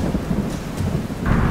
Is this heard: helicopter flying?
no